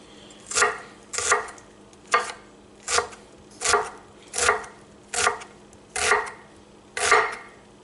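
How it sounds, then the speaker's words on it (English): Knife chopping an onion on a cutting board, nine evenly spaced sharp chops about one per second, close and clear with no talk. "Chop the onion."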